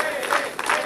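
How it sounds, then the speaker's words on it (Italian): Applause from a crowd at a children's football club party, a dense burst of clapping over roughly a second that rises and falls with a couple of swells. "E allora un grande applauso a lui"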